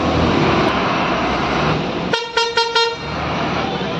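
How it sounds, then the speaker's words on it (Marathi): A bus carrying a women's Govinda troupe pulls away at a Dahi Handi festival in Chembur, its engine rumbling under crowd noise until a loud horn blasts three or four times in quick succession near the end. "ही पण आपली मुलींची गाडी निघालेली आहे"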